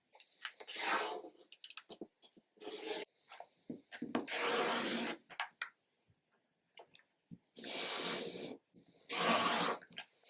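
Rotary cutter slicing through quilting cotton on a cutting mat, trimming a 9-inch square into four smaller squares: several separate close rasping strokes with quiet pauses between them.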